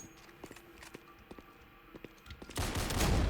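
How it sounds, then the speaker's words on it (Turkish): Sniper rifle shots in the Roblox game Counter Blox ring out as several sharp, spaced cracks over a busy game background, followed by a loud, dense burst of gunfire at the end. "Adama sniper'la sıkıyorum ya."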